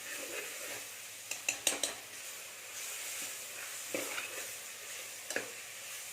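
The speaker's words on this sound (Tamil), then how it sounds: "ஸ்டவ்வை கம்மியாக வச்சுட்டு கலக்கணும், இல்லைன்னா அந்த பொடியெல்லாம் தீஞ்சு போயிடும்" Spice powder being stirred in a pan over a low stove for goat intestine curry: a soft steady hiss with a few quick scraping clicks of the spoon against the pan, faint and close.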